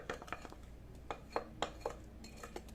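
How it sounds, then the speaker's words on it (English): Wooden spoon knocking and scraping in a bowl while mixing spiced apple cake batter by hand, a series of irregular close clinks and taps at low level. "I mix everything with the same wooden spoon as at the beginning until there is no more flour left"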